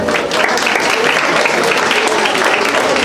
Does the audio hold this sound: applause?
yes